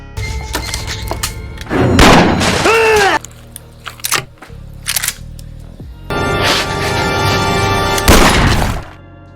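Shotgun blasts ring out during a violent action scene in the film Savage Dog: several loud, sharp booming shots and crashes come in bursts with brief pauses between them.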